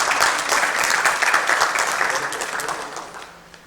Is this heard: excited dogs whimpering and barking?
no